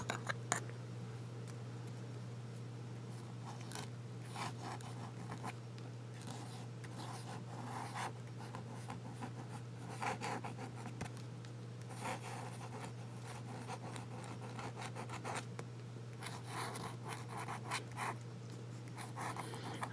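A dip pen with a different size nib scratches across paper as words are written, giving quiet, irregular strokes over a steady low hum.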